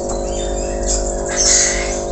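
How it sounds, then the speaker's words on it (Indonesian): A pet lory parrot chirping noisily indoors, shrill high calls over a steady low electrical hum, fairly loud and continuous with no talk. "Oh, Dora, diam, berisik"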